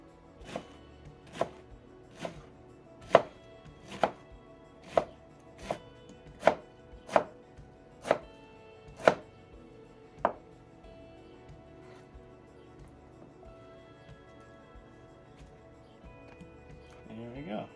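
A knife slices a pineapple on a cutting board: about eleven crisp, evenly spaced cuts land close by, then the chopping stops and near-quiet follows.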